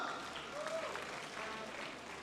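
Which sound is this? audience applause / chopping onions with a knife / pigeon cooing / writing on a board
audience applause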